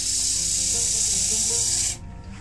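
A resin-repaired wooden platter sanded on a spinning lathe, a loud steady hiss of abrasive rubbing over the humming machine that cuts off near the end, leaving the lathe running quieter.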